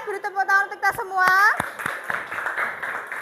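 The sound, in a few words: classroom applause, clapping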